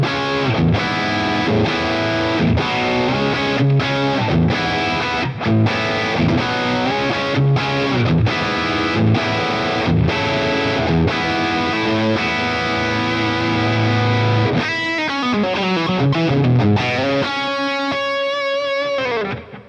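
Overdriven electric guitar through a Boss Katana amp with gain set around the middle, steady loud chugging chords followed by distorted lead lines and bends, close up with no talk.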